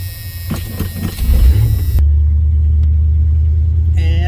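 A GMC C20 pickup engine cranks in a few rough bursts, catches, and settles into a steady, loud low idle rumble close by.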